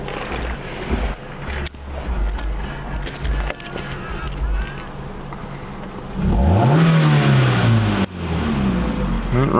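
2005 Hyundai Elantra GT with a cold air intake, its engine revving up in a rising then falling sweep after a stretch of steady running, loud and close.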